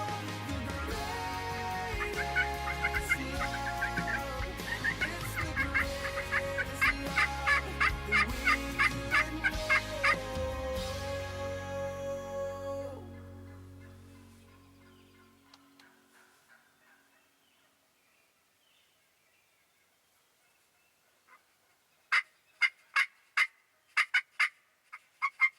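Wild turkeys gobble as the flock flies down from the roost, a burst of loud, repeated gobbles coming in a tight cluster near the end after a long quiet stretch, with music playing during the first half.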